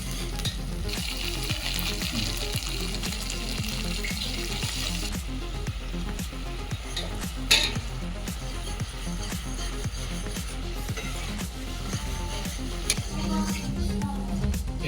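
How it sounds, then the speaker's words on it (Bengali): Spice paste sizzles in hot frying oil while being stirred, a steady close crackle with rhythmic scraping of a spoon through the pan, no talking. "সেগুলো ফ্রাই করেছিলাম গরম তেলের মধ্যে, সেগুলোর সাথে পেস্টগুলো দিয়ে ভালো করে আমি মিক্স করে দিচ্ছি"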